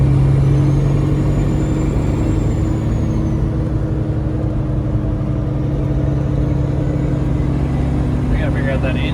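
A Detroit 6NZ diesel engine swapped into a red Peterbilt truck runs steadily at idle nearby, a loud continuous low rumble with constant tone throughout, no revving.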